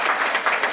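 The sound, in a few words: children's audience applauding after Christmas play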